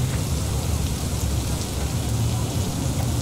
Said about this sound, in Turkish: Yağmur mu yani?